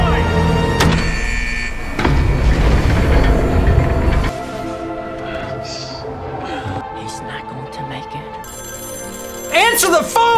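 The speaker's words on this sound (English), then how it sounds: "Answer the phone!" In a scene from the Loki TV series, a telephone rings in repeated electronic bursts among thuds, music and other effects, while people react with loud excited talk over it.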